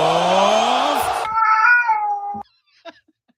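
A cat lets out a loud drawn-out meow followed by a second shorter wavering meow close by, then quiet apart from faint small sounds.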